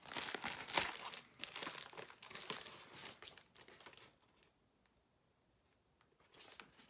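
Packaging of a bag of coffee beans from a microroastery being opened: close crinkling and crackling of paper and plastic for several seconds, then quiet, with a faint rustle at the end.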